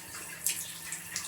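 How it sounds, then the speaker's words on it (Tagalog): Shower running in the bathroom of a house, a steady hiss of falling water with a few brief splashes, moderately close and uninterrupted by talk. "Yung shower sa PB House. Mainit na dadampi."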